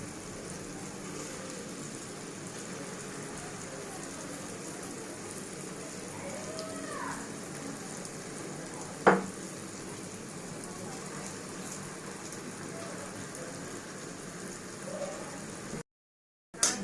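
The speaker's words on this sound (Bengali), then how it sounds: "আরও একটা ব্যাচ ভেজে নিচ্ছি" Steady crackling sizzle of palm-fruit fritter batter frying in hot oil, even and continuous, with a brief sharp clatter midway.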